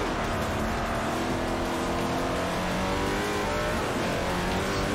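A race car engine roars steadily in Forza Motorsport 4, its pitch rising and shifting through gears as it accelerates around a track, loud and close with no talk.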